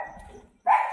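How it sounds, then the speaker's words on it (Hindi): A shih tzu gives a single short, sharp bark at close range after a brief quiet moment indoors. "ये क्या कर रहा है कि फिर भौंक रहा है बहुत ज़्यादा उन आवाज़ों के लिए"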